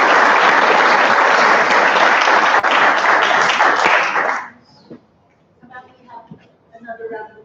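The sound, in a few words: applause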